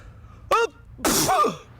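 A single close, loud sneeze: a short sharp intake followed by a forceful burst, alone in a quiet room.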